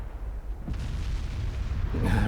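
Heavy battleship guns and shell hits in a naval warfare game, heard as a deep, continuous booming rumble that swells louder toward the end.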